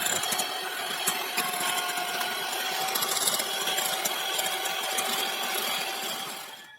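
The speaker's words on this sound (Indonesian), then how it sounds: "Kemudian di mixer sampai halus, sampai kaku." Electric hand mixer whipping cream with ice water until stiff, a steady, close motor whir with a constant high-pitched whine that runs unbroken and then cuts off at the end.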